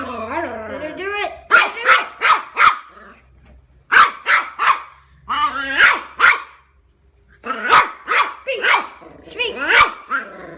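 A dog barks in quick bursts of three or four, close and loud, with short gaps between the bursts, while it faces a hockey stick held up to it.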